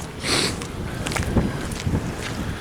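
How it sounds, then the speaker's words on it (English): Wind gusting on a cold, rainy day at Lake Superior in Porcupine Mountains State Park, heard as steady broadband rushing with a few louder gusts and mic buffeting, with no voices. "It's cold, it's rainy, windy."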